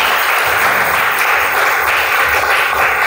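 A church congregation claps loudly in a sustained, dense round of applause that holds steady for a few seconds.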